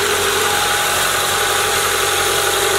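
A car engine with newly fitted power steering runs steadily at idle in a home garage, a continuous mid-pitched hum with faint vibration and no pauses.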